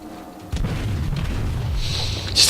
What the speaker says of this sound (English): Cleveland's firing at him.